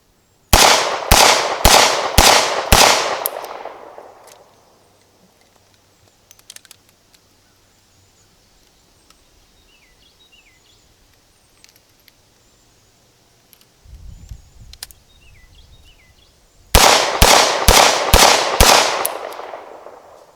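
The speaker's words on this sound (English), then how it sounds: "So let's go ahead and do some shooting." A Smith & Wesson 637 snub-nose revolver fires .38 Special at a range in two rapid strings of five loud, sharp shots, the strings separated by a quiet pause filled with faint handling and reload clicks.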